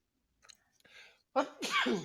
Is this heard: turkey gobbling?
no